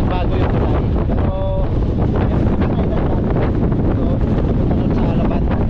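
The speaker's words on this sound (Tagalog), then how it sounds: "So napakalakas ng hangin, hindi tayo makapag-ipag ng drone, sobrang lakas ng hangin." Strong wind buffets the microphone at a coastal bridge construction site near Alabat island, Quezon, a loud continuous roar with gusty rumble, and someone talks under it.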